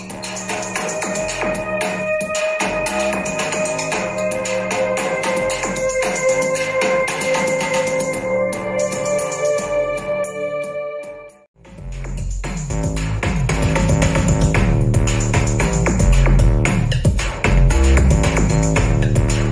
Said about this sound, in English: let me play to you the original sound, and next I will play the sound after the tiniest of